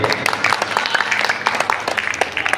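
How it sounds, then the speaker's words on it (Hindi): Loud applause at an Agrawal community gathering in Jaipur, with dense, sharp claps from a large crowd filling the short stretch. "आशीर्वाद की जोरदार तालियां दें"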